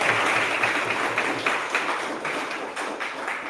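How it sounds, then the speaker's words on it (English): A community meetup audience gives a sustained round of applause, dense steady clapping from many hands filling the room evenly throughout, without speech. "Let's give a round of applause one more time"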